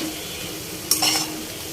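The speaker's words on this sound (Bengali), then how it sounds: "আর এই সাইড একটু লাল শাক ভাজা করছি" Red amaranth greens stir-fried in a pan give a steady, close sizzle, with a brief louder burst of stirring and scraping near the middle before the frying settles back to an even hiss.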